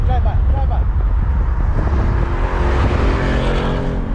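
A car drives past close by, with a loud, sustained engine roar and road noise that fill the whole clip. Voices can be heard briefly at the start.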